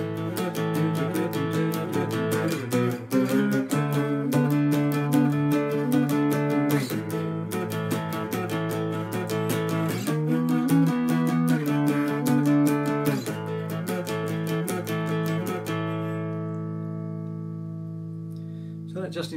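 A riff on a three-string cigar box guitar: a run of quick, bright plucked notes and strums in a steady rock rhythm, ending on a held chord that fades out over the last few seconds.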